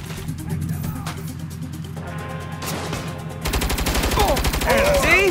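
Rapid turret gunfire rattles in the Saints Row video game, a dense burst that grows louder and busier toward the end, with voices speaking over it.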